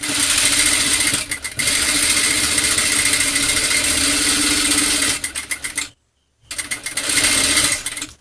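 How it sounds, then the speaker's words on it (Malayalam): A sewing machine stitches along the edge of a frock nightie with a loud, close, continuous mechanical whir. It pauses briefly twice, falls silent for a moment near the end, then resumes. "അപ്പൊ ഇതിന്റെ അരികിലൂടെ ഒന്ന് നമുക്ക് സ്റ്റിച്ച് ചെയ്തെടുക്കാം."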